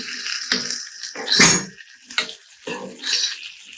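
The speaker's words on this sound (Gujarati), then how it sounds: "થોડું આપણે પાણી છાંટીશું જેટલી બટેકા છે ચોટી ન જાય." Water sprinkled by hand onto boiled potatoes and spice masala in a pan while making cumin potatoes gives a few close, brief splashing sizzles in separate bursts.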